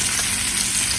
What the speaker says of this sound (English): I'm gonna go ahead and give my bacon a little flip.